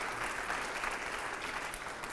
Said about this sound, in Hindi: जोरदार तालियां हो यहां पर